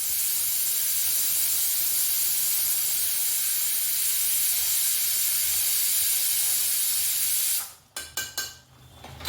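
A kitchen pressure cooker whistles with a loud, continuous steam hiss close by for several seconds, then cuts off, leaving a few short sputtering bursts of released steam.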